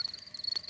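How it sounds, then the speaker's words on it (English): Crickets chirping outdoors at a campsite at night: a brief, high, thin trill pulsing in short bursts, moderately faint and alone. "That is the sound of crickets chirping."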